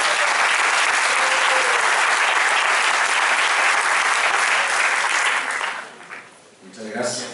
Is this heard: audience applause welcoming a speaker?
yes